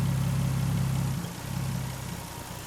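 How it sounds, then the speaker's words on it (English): A 2000 Nissan Skyline R34 25GT Turbo's 2.5-litre engine idling steadily nearby, its low hum dipping briefly as the air-conditioning compressor kicks in, then settling back to a smooth idle. "Oh, it's an AC thing, the compressor was coming on."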